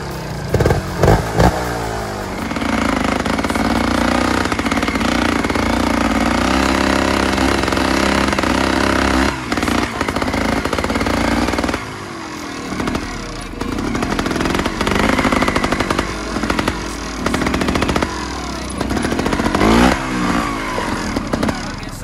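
Motorcycles on a road trip in Corsica, engines droning loud and steady for most of the ride with revving surges and a brief dip midway, close up and without talk.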